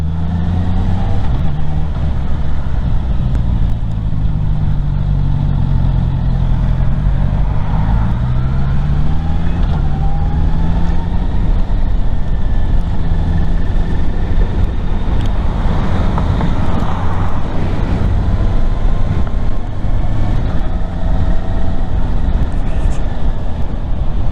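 A 2024 Honda CBR650R motorcycle pulling away in first gear, its engine a loud, continuous low drone with rising and falling tones as the revs climb, mixed with heavy wind rush throughout.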